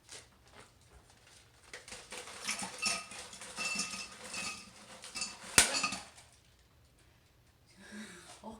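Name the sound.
stirring an Old Fashioned cocktail with ice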